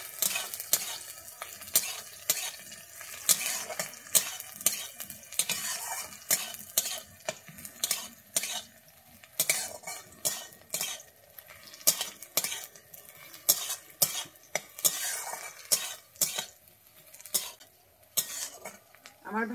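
Slit green chillies fry in oil in a pan while a utensil stirs and scrapes repeatedly, giving a steady sizzle broken by frequent sharp clinks of metal against the pan, with no talking.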